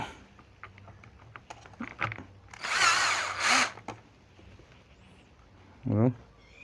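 A power drill driving screws, with short whirring bursts followed by a longer sustained high whine and a final brief low-pitched spin, close up, with voices speaking intermittently around the drilling.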